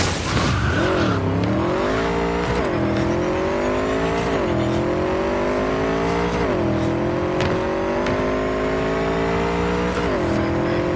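A car in the video game Cyberpunk 2077 drives hard with a loud engine that rises and falls in repeated revving sweeps, its tires skidding and squealing through the turns, with no talk over it.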